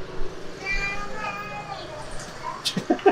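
A cat meows a few short times near the end, over a busy street murmur in George Town, Penang, Malaysia, with distant traffic and voices.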